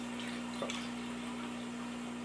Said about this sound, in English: So we're going to do 3/4 of a cup. I have some bottled water.